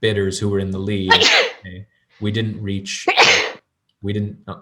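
During a realtor auction webinar, someone sneezes twice in short bursts amid a person talking, each sneeze a sharp noisy blast between spoken phrases.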